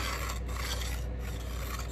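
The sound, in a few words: scribing a line on sheet metal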